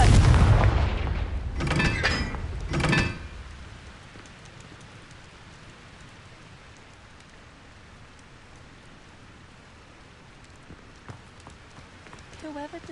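A Confringo fire spell explodes in Hogwarts Legacy, played on hard difficulty on PS5: a loud burst and crackling blasts in the first three seconds, then a quiet rain-like hiss with a faint voice near the end.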